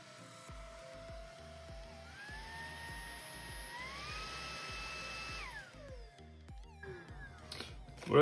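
A Redroad V17 cordless stick vacuum cleaner switches on and runs with a thin, high motor whine. The whine climbs in pitch, holds, then winds down, and a few clicks of handling can be heard.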